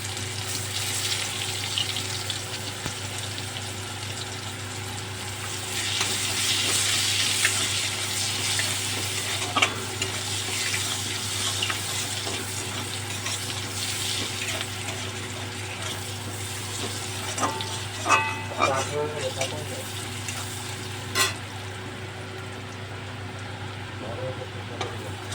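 Onions dropped into oil left from frying prawns, a steady close sizzle and crackle running throughout, with occasional clinks and stirring scrapes and a low hum underneath.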